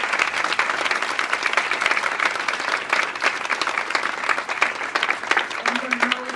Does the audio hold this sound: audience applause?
yes